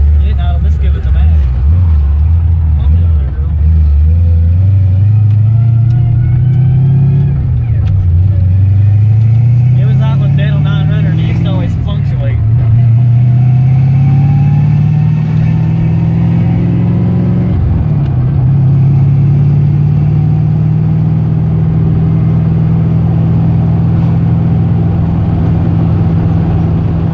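A car engine tuned with a MicroSquirt ECU idles steadily and is revved, its pitch rising and dipping in several swells before settling into a loud, even drone, with people talking over it.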